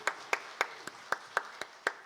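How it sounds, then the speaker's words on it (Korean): A church congregation claps during a Sunday worship service, eight crisp claps in an even, steady rhythm, fairly faint and without other sound. "우리 하나님께 영광의 박수 올려드리십시오."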